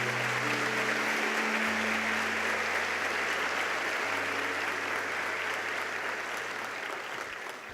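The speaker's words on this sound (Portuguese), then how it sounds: "um aplauso ao Senhor" A church congregation applauds the Lord, broad sustained clapping from a crowd that holds steady for several seconds before slowly easing off, with a low musical tone underneath.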